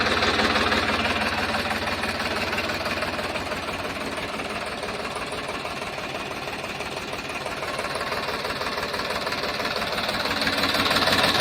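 A one-owner 2011 Powertrac 439 tractor with its factory-fitted engine runs steadily, a close, loud, continuous knocking diesel rumble with a fine rhythmic clatter and no pauses.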